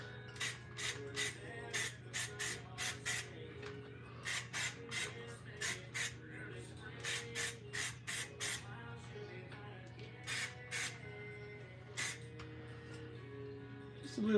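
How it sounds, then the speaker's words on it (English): Repeated short bursts of aerosol spray paint from a can, about two dozen hissing spritzes in quick clusters, close and fairly loud over a steady low hum, while trimmed motorcycle parts are painted. "Just a little spray."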